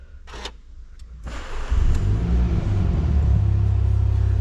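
A MINI John Cooper Works F56 is started by push button with the clutch held: a few sharp clicks, then the engine catches with a loud burst and settles into a steady, deep, close idle rumble.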